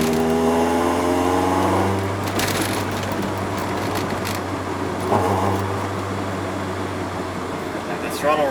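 A Toyota AE86 with a 4A engine and a new throttle position sensor drives along, its engine a steady, fairly loud drone with a rougher mechanical rumble that continues throughout.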